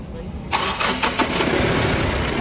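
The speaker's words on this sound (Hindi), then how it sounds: "देख सकते हैं हमारी गाड़ी हो गई स्टार्ट" A Mahindra Bolero pickup engine cranks and fires into life close by, the starter's rhythmic churn giving way to a steady rumbling idle.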